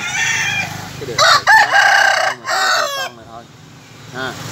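A rooster crows loudly and close by, one long strained cock-a-doodle-doo followed by a few softer clucks and a short call at the end.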